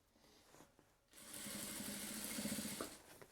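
A sewing machine stitches a laptop bag in a quick continuous run lasting about two seconds, a close, buzzing mechanical whir after a brief quiet handling pause.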